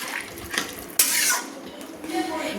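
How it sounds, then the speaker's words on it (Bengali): Spatula scraping and stirring a thin silver carp curry with drumsticks in a pot after water is added, with a sharp clink near the one-second mark and soft sloshing, close and moderately quiet. "পাতলা জল অ্যাড করে আমি একটু খুন্তি দিয়ে নেড়ে নিলাম।"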